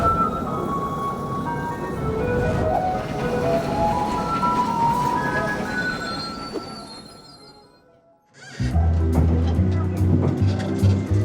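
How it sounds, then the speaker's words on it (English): A Taiwanese garbage truck plays its loud melody outdoors in Jiaoxi, a tune carrying over street and traffic noise for several seconds before a cut to a different scene with steady rumble. "That garbage truck sings such a loud song."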